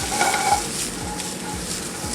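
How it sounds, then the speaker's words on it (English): Asparagus sizzles in a pan with a little oil, a steady, hissing fry with faint clinks of the pan and stirring, close and continuous with no talk. "A little bit of oil. Gonna throw our asparagus in."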